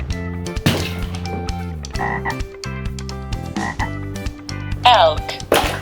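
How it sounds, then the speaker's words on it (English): A frog croaks in a run of repeated rattling calls over a bed of steady music, the croaks loud and close, with a higher, shriller burst of calling near the end. "Frog."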